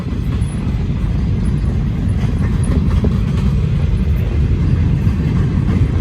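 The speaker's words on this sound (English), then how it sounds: "Hey, there's finally an end to the train." A long CSX freight train rolls past close by, with a steady, heavy low rumble and clatter of railcars that holds constant for the whole stretch.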